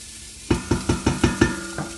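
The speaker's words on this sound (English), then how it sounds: "oil in there, and it's nice and hot, so you'll hear it when it starts to spit" Hot oil sizzles in a pan, with six quick, rhythmic bursts of crackling as vegetables are stir-fried for fried rice, close and fairly loud.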